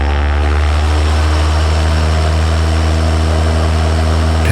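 A light propeller aircraft engine roars steadily at full throttle for takeoff, loud and close with a constant droning buzz and no pauses.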